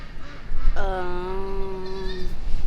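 A baby goat on a farm gives one drawn-out, wavering bleat, close and clear, lasting well over a second against a quiet outdoor background.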